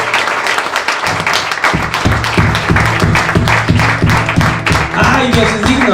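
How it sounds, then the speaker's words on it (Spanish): Church congregation clapping together after a prayer, a dense, steady wash of many hands with rhythmic beats emerging, loud and close, with a low musical drone underneath. "Denle un aplauso a su Señor, hombre."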